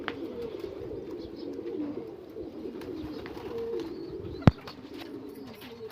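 Two or three pigeons coo softly in a low, continuous murmur at close range, with one sharp click or knock near the end.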